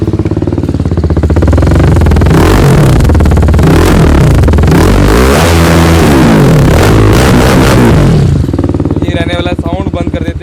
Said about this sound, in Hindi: तो भाई चलो इसके एग्जॉस्ट सिस्टम की आपको साउंड चेक करा रहे हैं।